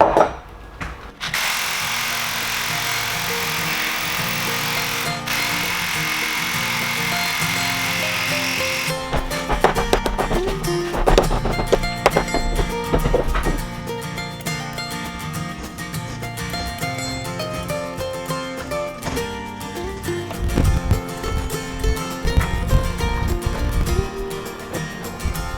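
Power tool cutting through a wooden boat's stem timber, a sustained loud grinding whine that turns into rougher, uneven cutting noise with knocks and crackles as the work goes on.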